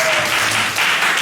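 A church congregation applauds to welcome back two teachers from a short-term mission trip: close, dense, steady clapping from many hands that fills the whole moment without pause.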